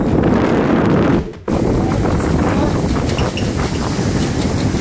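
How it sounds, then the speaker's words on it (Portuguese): Strong wind roaring past a rider on a motorcycle trip through Santa Maria, Brazil, a loud continuous broadband rush that briefly drops out before returning at full strength. "E é com vento, viu?"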